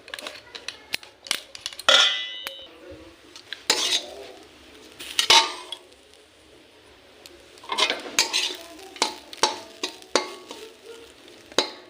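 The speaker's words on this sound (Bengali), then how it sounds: "এই চালের গুঁড়োকে মাখতে হবে" Rice flour is worked with hot water inside a pot, with repeated scraping, stirring and clinking of a utensil against the metal in irregular bursts, close by with quiet pauses between strokes.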